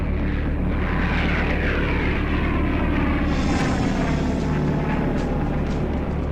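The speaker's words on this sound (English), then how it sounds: "Japanese bombers and torpedo planes roared across the sky toward Pearl Harbor." Japanese bombers and torpedo planes roar overhead in a massed flight, a loud, continuous propeller-engine drone that swells and sweeps past with a passing pitch shift, with no voices.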